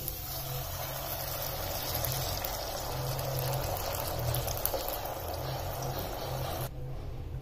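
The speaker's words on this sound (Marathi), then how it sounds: "हे गरम पाणी यात मी आता टाकते।" Hot water is poured into a pan of roasting upma, a steady close gush and hiss of liquid hitting the hot pan, continuing evenly before stopping just before the end.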